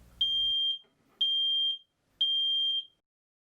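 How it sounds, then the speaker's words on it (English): A smoke detector gives three loud, piercing beeps at even one-second intervals during a test, with a brief low thump just before the first beep. "You can check these smoke detectors easy with a broom handle."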